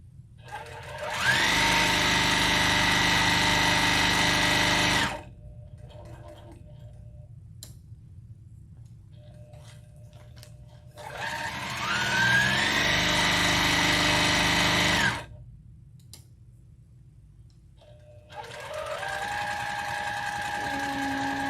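A sewing machine runs in two long bursts of steady, loud whirring while stitching small patriotic pillows, with a quiet pause between them and a third run starting near the end.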